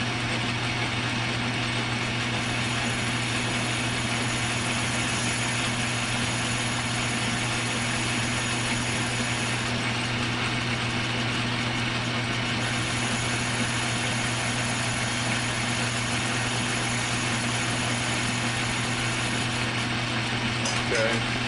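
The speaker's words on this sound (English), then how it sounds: "now I'm going to start to walk it down with this wheel here to widen the groove" A rotary tool's grinding wheel widens a groove cut into a metal socket, giving a steady, loud, continuous high whine and buzz with a constant motor hum that holds unbroken for the whole stretch, with no talking.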